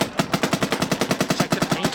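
Rapid, steady bursts of shots from a Luxe Idol paintball marker, about eight pops per second, loud and close, with no talk over them.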